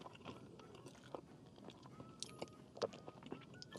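Someone bites into and chews red velvet chocolate cake with granulated sugar bits, producing soft close-up crunches and mouth sounds at a low level, with one sharper bite near the end.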